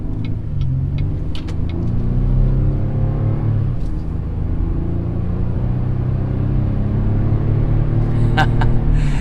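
A GMC Canyon All-Terrain pickup pulls onto a highway under acceleration, its engine a steady loud rumble with rising tones and a constant layer of road noise, with traffic passing nearby.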